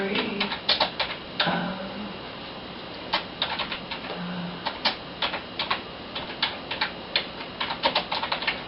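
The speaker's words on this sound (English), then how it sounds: "Or maybe I could type in Story of the Mentally Ill." Rapid clacking keystrokes on a keyboard, heard near and fairly loud over a steady background hiss, with quick bursts and short pauses as a search phrase is typed.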